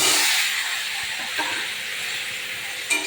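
Sponge gourd and green chillies hit hot oil in a pan where potatoes have been frying, for a tilapia and sponge gourd curry, giving a loud, steady sizzle and hiss that holds for a few seconds with faint clinks.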